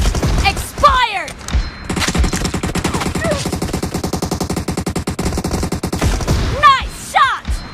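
Rapid automatic gunfire from the PUBG video game, sustained bursts of loud, evenly spaced shots with a few heavier thumps, with voices speaking at the start and end.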